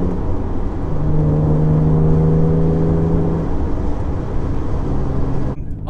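An Alfa Romeo with ECU trouble accelerates, its engine a steady, close drone with rising whine tones that fade toward the end.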